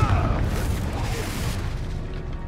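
Confringo fire spell explosion in Hogwarts Legacy, a single heavy boom that fades into a rumbling, crackling tail over steady game noise.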